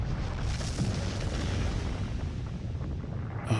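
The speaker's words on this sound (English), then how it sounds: "I swear that explosion gets bigger every time." A huge anime explosion from Attack on Titan's final chapter, a loud sustained booming roar that swells and rumbles throughout, with a sharper burst near the end.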